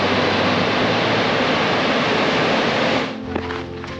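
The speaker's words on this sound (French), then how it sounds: "il y a 200 mètres cubes par seconde d'eau qui tombe de la chute" A huge waterfall in northeastern Iceland roars in a loud, steady, broadband rush of falling water, swollen by snowmelt, which eases slightly near the end.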